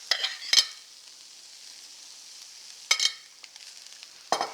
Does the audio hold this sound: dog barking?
no